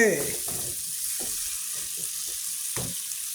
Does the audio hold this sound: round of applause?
no